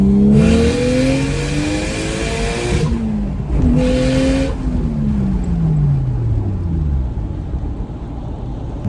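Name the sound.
Toyota JZX110 car with external wastegate revving and accelerating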